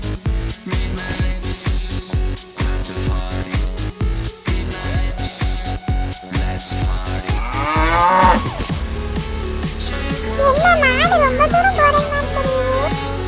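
Cartoon cattle mooing: a drawn-out, rising moo stands out partway through over loud, rhythmic background music.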